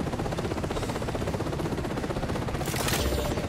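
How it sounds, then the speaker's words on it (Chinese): In the mobile shooter Arena Breakout, gunfire crackles in rapid, dense bursts like automatic fire, loud and continuous throughout with a brighter burst near the end. "这当中好有枪声"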